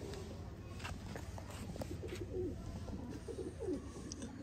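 Soft, low pigeon coos repeat a few times at a distance, faint against quiet background noise; breeder pigeons in Sialkot, Pakistan.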